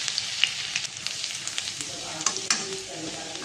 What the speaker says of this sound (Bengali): এবার দিয়ে দেবো এর মধ্যে কুচিয়ে রাখা রসুন